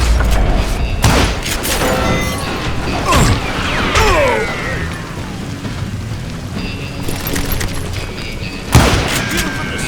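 Gunfire and mechanical action in the Western shooter game Call of Juarez Gunslinger: loud shots and clattering impacts with whooshing debris, a sharp boom near the end, over continuous game noise.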